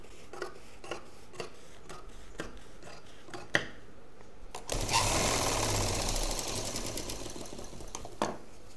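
A sewing machine stitches a zipper onto fabric for a travel bag made from an old shirt; after several scattered clicks and handling taps, a loud continuous whirring run starts midway and carries on to the end, with no talk.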